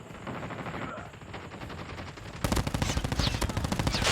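Video game gunfire in a firefight, repeated rapid shots at moderate distance that turn louder and denser into sharp automatic bursts in the second half, with a voice talking quietly in the background.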